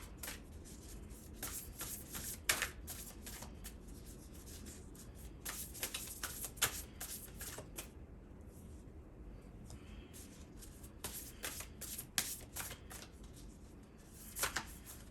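Tarot oracle cards being shuffled by hand, a steady run of soft riffling and papery flicks with sharper card snaps throughout, close and fairly quiet with no talking.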